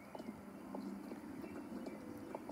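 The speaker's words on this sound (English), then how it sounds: "Oh, here's the horse I wanted to buy." Horse hooves clip-clop steadily at a walk in a horse-buying area of a video game, a soft repeated patter under a low background hum.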